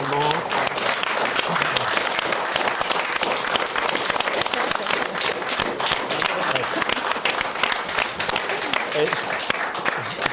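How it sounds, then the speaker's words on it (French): Dense, sustained audience applause greets guests Sabrina and Steven Gunnell arriving on a talk-show set, a loud, even wash of clapping filling the whole stretch without pause. "Je crois qu'à l'applaudimètre, vous battez les records"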